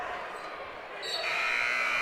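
A buzzer sounds at the end of the first half of a boys' high school subdistrict final basketball game, a sustained tone rising over the crowd noise in a gym during the last second.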